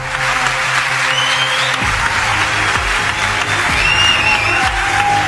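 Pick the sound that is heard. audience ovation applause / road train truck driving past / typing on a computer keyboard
audience ovation applause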